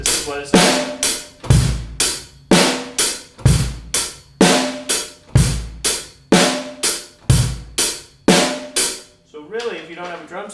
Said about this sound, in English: When I put it on the drum set, this is what it sounds.